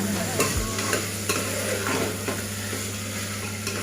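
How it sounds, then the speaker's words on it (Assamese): Kabuli chickpeas being stirred and fried in a pan, a steady close sizzle with repeated scraping strokes of the spoon running throughout. "মই কাবুলী বুট দি দিছোঁ।"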